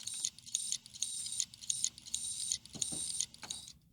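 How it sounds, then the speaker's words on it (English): A failing computer hard drive clicks and whirs in a repeating mechanical cycle, with bright ticking bursts about every half second, near and fairly faint in a quiet room. "why is my hard drive making that noise?"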